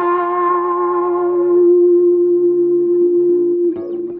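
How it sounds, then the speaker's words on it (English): Guitar tone shaped by an auto-filter pedal, then spring reverb and delay, ringing as a single sustained chord that holds steady and decays with echoing tails before a brief pick scrape near the end. "A little bit of spring reverb for the vintage thing, and then going into a delay."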